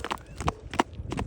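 Hooves of a ridden Marwari mare clop on the ground in Madurai, a few quick uneven strikes at close range, with faint voices in the background.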